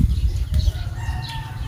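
Chickens and chicks clucking with a burst of wing flapping, close by and fairly loud, busy low rustling throughout with no talking.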